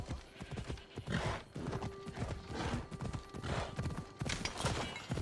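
Horse hooves gallop in the Assassin's Creed Odyssey video game as a fast, rhythmic clip-clop up a mountain path, close and loud, with a brief whinny and some background game sound.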